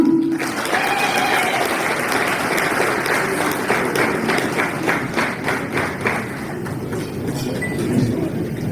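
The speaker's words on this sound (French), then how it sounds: "je vous demande de faire une salle d'applaudissements pour Bernadette Poulou" Audience applause at a ceremony honouring Fally Ipupa, with Bernadette Poulou called up: steady, dense clapping from a large crowd fills the whole stretch at an even, loud level, with a faint voice now and then beneath it.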